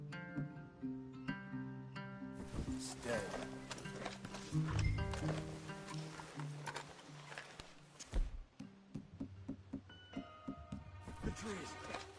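Horses in Red Dead Redemption 2 move through a wooded area, with hoof clops and snorts scattered among in-game speech and a music score, fairly close but partly masked by voices.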